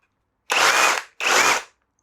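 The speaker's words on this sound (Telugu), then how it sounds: "హామర్ డ్రిల్లింగ్, హామర్ అనమాట." Two brief bursts from a cordless rotary hammer drill set to hammer drilling mode, a harsh, rattling, broadband roar from close by with a short gap between them and no talk.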